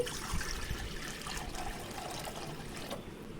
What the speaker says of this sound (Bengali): কড়াইয়ে জল দিয়ে দিচ্ছি